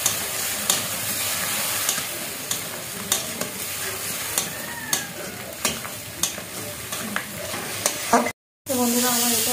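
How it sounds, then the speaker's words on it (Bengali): Potato pieces with salt and turmeric sauté in a pan, making a continuous sizzle broken by regular knocks of a spoon as they are stirred, followed by a short break and then more frying. "স্বাদ মতন লবণ, এক চামচ হলুদ, এই দিয়ে ভালো করে আমি আলু দিয়ে কষব।"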